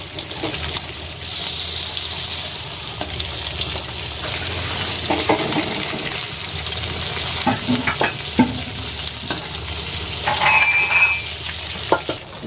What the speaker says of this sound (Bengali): এইভাবে এবার সবগুলোকে ভেজে নেবো।